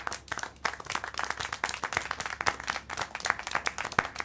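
Clapping from a character in the video game Syberia The World Before: a quick run of sharp individual claps, fairly close and steady, with several distinct louder hits and no talking.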